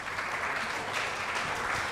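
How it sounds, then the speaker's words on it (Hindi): An audience at the NTA Awards 2024 open mic event applauds with dense, steady clapping throughout, fairly loud and unbroken, with no voices over it. "जोरदार तालियां मैम के लिए।"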